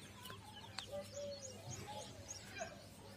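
Small birds chirp and tweet near water-filled pots set out in a home garden in summer, with several short calls scattered over a steady low background hum and no talk.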